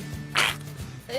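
A baby's short, sharp sneeze bursts out once, close by, with a small voice and soft background noise around it.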